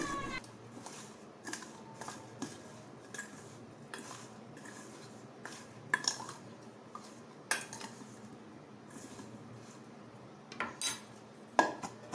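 Paneer pieces being mixed with turmeric and spices in a bowl, giving soft scraping and intermittent clinks of a spoon against the dish, with a few sharper knocks scattered through the stirring.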